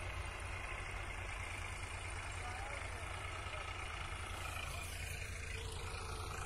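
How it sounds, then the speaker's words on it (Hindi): An Eicher 551 tractor engine runs steadily while pulling a laser land leveler in a field, a constant low diesel drone heard from nearby, with a voice talking over it. "लेजर लेवलर है, 551 ट्रैक्टर बना है"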